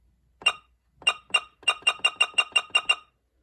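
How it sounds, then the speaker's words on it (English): Short electronic beeps from a weather radio's buttons sound alone: two isolated tones, then a quick run of about nine evenly spaced beeps. "this is what the button beeps sound like, at least for the invalid ones"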